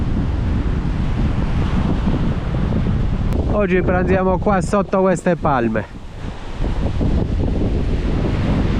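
Strong wind buffets the microphone on a Boracay beach under palm trees facing the sea, a loud, constant roaring rumble; someone speaks briefly in the middle over the gusts.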